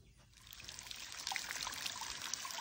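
Water from a garden hose pouring into a homemade plastic bucket fish and game washer with drilled holes near the rim, a continuous trickling and splashing that grows slightly louder and steadier as it fills.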